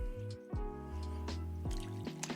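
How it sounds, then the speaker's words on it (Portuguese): Water is poured into a small chilled glass made to look frosty with condensation, giving rising gurgling and splashing tones that repeat in a few bursts over a couple of seconds, close and clear with no voices. "Agora eu coloco água."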